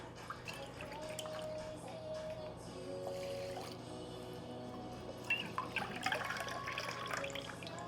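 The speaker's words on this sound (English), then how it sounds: "I'm gonna do 2 cups of this beef broth just to add some extra nutrients into our rice" Beef broth pours into a pot for cooking rice, a soft, continuous liquid trickle with faint drips, quiet and close, ending in a few sharper splashes.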